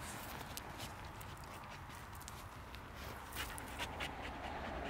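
Dogs out on a hike pant close by and move about with soft footsteps over a steady wash of outdoor noise, with no talking.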